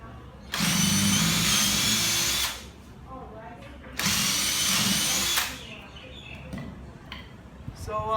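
Power drill boring holes into a wooden nunchaku, two long steady whining bursts about two seconds each separated by a short pause, close and loud, followed by quieter workshop clatter.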